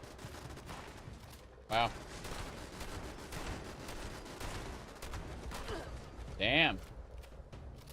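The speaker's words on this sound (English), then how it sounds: "Getting shot at by these anglers" Gunfire from anglers in Fallout 76 rings out in two sharp bursts, one near the two-second mark and a louder one near the end, over steady game noise while a man reacts aloud.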